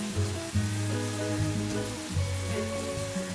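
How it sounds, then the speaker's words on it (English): Spam slices sizzle in a pan as sauce is brushed onto both sides for a glaze, a steady close frying hiss with louder bursts, backed by tonal music. "you kind of put some of that sauce on both sides of the Spam while it's cooking"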